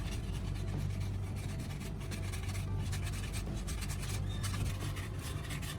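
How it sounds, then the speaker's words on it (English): Sandpaper rubbed over the rough cut end of a pipe, a continuous close scratchy rasp with rapid back-and-forth strokes throughout. "I smooth out any rough spots with sandpaper"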